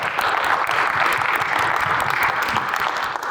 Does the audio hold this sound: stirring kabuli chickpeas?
no